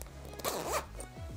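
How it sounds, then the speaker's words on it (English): A zipper on a donut seat cushion cover is pulled open in a couple of quick rasping strokes, close and clear, with a few soft fabric rustles after. "they do have a zipper for it to open up."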